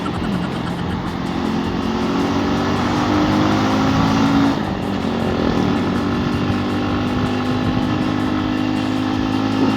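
A Rusi KRY 200 trail motorcycle riding steadily, its engine droning continuously and loudly, with heavy wind rush throughout and a brief dip in tone midway, no talking.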